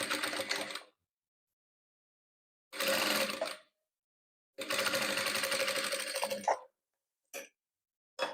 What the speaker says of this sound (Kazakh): Қайтадан ақ түсімізді тігеміз.